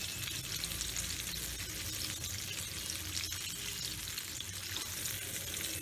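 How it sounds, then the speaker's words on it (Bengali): Pieces of katla fish frying in hot oil, giving a steady, dense, close sizzle with a constant crackling hiss and no voices. "তাহলে এই দুটো মাছ ভাজা হয়ে গেল"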